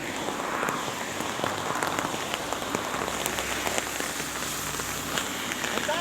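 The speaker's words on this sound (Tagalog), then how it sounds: "it's raining" Rain falls steadily outdoors, pattering densely on hard surfaces with scattered sharper drips. The wash is continuous and fairly near, and no one speaks over it.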